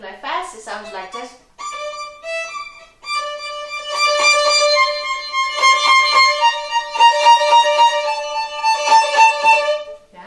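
Solo violin plays a quiet opening of bowed notes, then swells suddenly into a loud, sustained passage, a sharp crescendo that stays strong to the end, heard alone.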